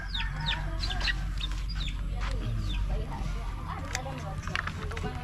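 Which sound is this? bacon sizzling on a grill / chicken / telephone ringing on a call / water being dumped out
chicken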